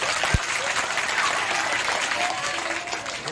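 An audience in a school hall applauds at an Urdu mushaira, steady dense clapping after a single sharp knock at the start.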